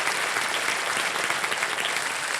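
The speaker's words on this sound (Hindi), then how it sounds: "तालियां बज जाए रिंकल जी के लिए।" Game-show studio audience on Kaun Banega Crorepati applauding a contestant, a loud, sustained and even roar of many hands clapping together.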